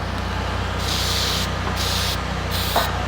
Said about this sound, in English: we're just gonna spray it in all of the welds so that we are safe from any types of rust